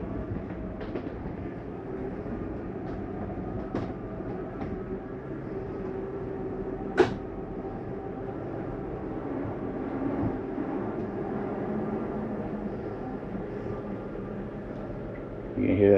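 Slide-out motor on a 2023 Jayco Jay Flight 295BHS travel trailer retracting the slides, a steady low mechanical drone lasting the whole stretch with a single sharp clack midway and faint knocks, heard from inside the unit.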